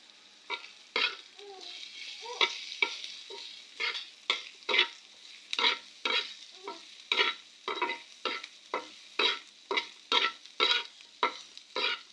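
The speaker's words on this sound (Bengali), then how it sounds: "এখন হলুদ দিয়ে আবার কতক্ষণ একটু ভাজবো।" Food frying in a pan after turmeric is added, with a steady faint sizzle under repeated rhythmic scrapes of a spatula stirring, about one stroke every half second, no talking.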